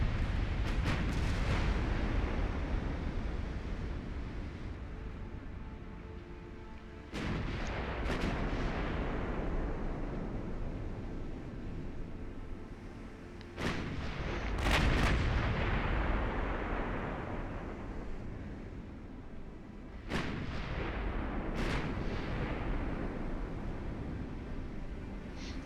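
Heavy naval guns fire in Ultimate Admiral: Dreadnoughts during a battle against Russia, four loud booming salvos spaced several seconds apart, each followed by a long rumbling roar.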